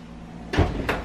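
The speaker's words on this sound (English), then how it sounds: "Door opened" A Tesla car door opens with a short, close mechanical clunk followed by a second brief latch-like sound, set against a steady low background hum.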